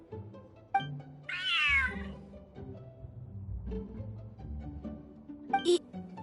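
A large cat in Genshin Impact's Mondstadt lets out one clear, drawn-out meow amid light game sounds and soft taps, with a short chirp near the end.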